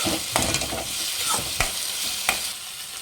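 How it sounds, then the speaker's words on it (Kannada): Capsicum fries in a hot pan for gobi manchurian, giving a steady loud sizzle with a few distinct scraping stirs spaced through it, close and without voices. "ಕ್ಯಾಪ್ಸಿಕಮ್ ಹಾಕ್ಕೊಳ್ಳಿ ಚೆನ್ನಾಗಿ ಫ್ರೈ ಮಾಡಿ ಫ್ರೆಂಡ್ಸ್"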